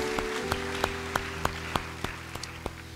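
Scattered, fairly faint hand claps ring out in a church, spaced roughly evenly over a few seconds, with a sustained organ-like tone underneath.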